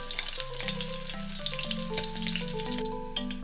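Pork fat fries in a pan with a steady, close, hissing sizzle that carries on without a break, with faint scraping and clinks from stirring mixed in.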